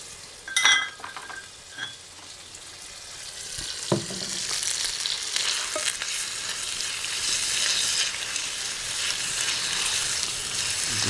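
Chicken breast sizzling and frying in a hot pan on a rocket stove, a steady hiss that builds after a few early clinks and taps of utensils.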